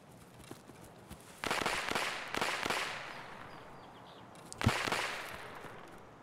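A few sharp gunshots ring out in a video game, spaced seconds apart and somewhat distant, each leaving a brief echoing tail over quiet ambience.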